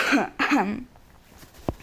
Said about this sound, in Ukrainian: відео знімаю, що я аж кашляю